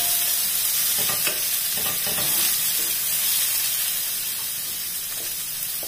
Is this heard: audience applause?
no